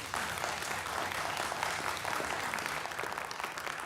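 Sustained applause from an audience at a San Marcos city council meeting, steady and dense for several seconds, fairly distant and roomy, with no voices over it.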